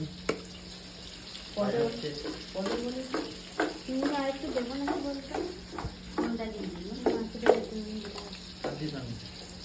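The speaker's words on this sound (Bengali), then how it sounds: "ইলিশ মাছ ভাজা চলছে" Hilsa fish sizzling in hot oil, with a steady frying hiss, stirring clatter and occasional utensil knocks, and a person talking over it.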